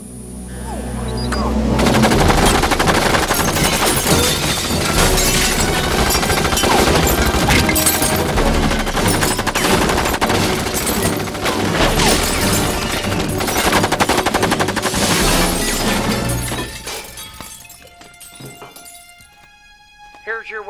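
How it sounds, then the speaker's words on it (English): Fembot's machine gun fires in a film scene, a long dense burst of rapid gunfire with shattering and clinking layered over music and voices, loud and continuous before dropping away near the end. "Machine gun jubblies?"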